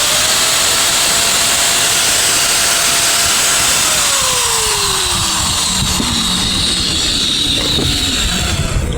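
A repaired INGCO 750 watt angle grinder runs at full speed with a loud, steady high-pitched whine, its motor pitch dipping briefly partway through before holding constant.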